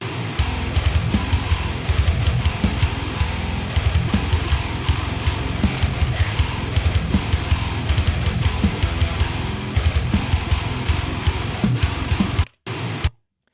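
Two unedited raw electric guitar takes playing together, loud distorted chugging with slightly loose timing, continuous for about twelve seconds before cutting off, with a short final burst.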